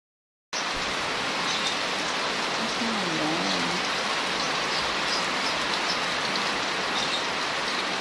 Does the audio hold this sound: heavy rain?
yes